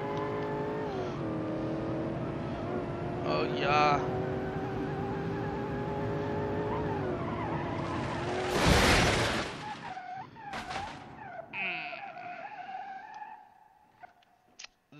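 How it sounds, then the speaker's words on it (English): A limousine converted into a drag car accelerating hard on dirt, engine roaring steadily up close, then a loud burst and skid followed by sputtering, scattered mechanical noises; someone briefly speaks. "I like driving in the dirt with a drag car"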